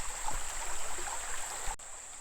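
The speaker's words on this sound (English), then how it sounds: "This is the second crossing that Indian Creek crosses the trail." Indian Creek, an Ozark stream at a trail crossing, flows over eroded bedrock with a steady, close broadband rush and gurgle, alone and without talk, cutting off abruptly near the end.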